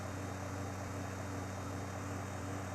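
Rotor drone of a helicopter in GTA San Andreas, a steady engine hum with a low buzzing pulse, continuous and fairly loud with no talking.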